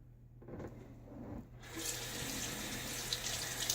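Running tap water splashes steadily as shaving soap lather is rinsed off hands at a sink, starting after a brief quieter moment and continuing close and loud without talk.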